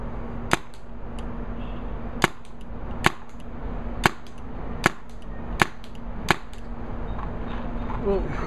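Paintball gun firing biodegradable paintballs outdoors, seven sharp, fairly loud pops spaced about a second apart over steady background noise.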